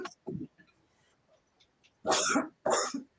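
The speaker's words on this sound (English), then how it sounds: "Of course, I'm going to start coughing." Two loud, harsh coughs in quick succession near the mic, after a few quieter throat sounds and faint murmuring.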